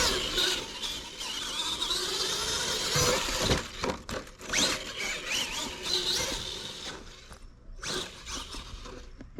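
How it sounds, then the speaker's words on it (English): An Axial SMT10 RC monster truck with HD gears skips its gears under throttle, giving harsh grinding, crackling bursts and whiny motor strain in uneven spurts, close and fairly loud. "Oh, we got some gear skipping already."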